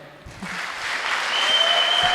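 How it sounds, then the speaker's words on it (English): An audience applauds the finalists at a quiz competition final, starting after a short pause and swelling into steady clapping that grows slightly louder. "Please clap for them."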